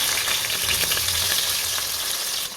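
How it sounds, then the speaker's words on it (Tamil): Long-sliced onions sauté in a pan for mutton biryani, giving a constant close frying hiss with soft stirring scrapes, briefly and without any voice. "இந்த வெங்காயத்தை லைட்டாக வதக்கி விட்டுக்கலாம்."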